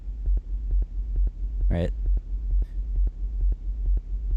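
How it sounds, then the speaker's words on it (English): A techno track's sine-wave sub bass pulses steadily underneath a regular kick drum, a low throbbing rumble repeating in even beats, with one brief voice interjection partway through. "now it's just a sine wave, kind of a sub, pulsing underneath"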